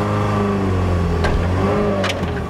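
A Mazda Miata engine runs rough and uneven, its steady close drone wavering as the revs rise and dip, with a few sharp clicks and knocks partway through.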